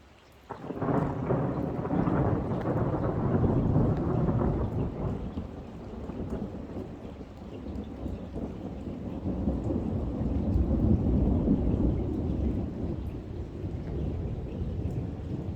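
Heavy rain from a moderate August thunderstorm in the Grenoble Alps pours continuously while deep rolling thunder rumbles through, swelling and fading in waves.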